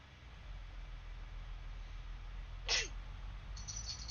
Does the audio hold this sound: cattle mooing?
no